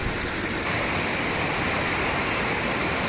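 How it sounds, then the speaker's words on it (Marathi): A river pours over slippery rocks on a crab-catching trip, making a steady, close rushing roar that fills the whole stretch evenly with no voices. "फायनली मित्रांनो आपण आलेलो आहे नदीवरती"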